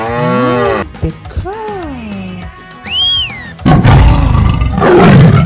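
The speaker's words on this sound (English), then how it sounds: "cow." A cartoon cow in a children's animal painting game gives a loud, drawn-out moo, followed by other animal calls and a harsh roaring burst, all close and with no talking.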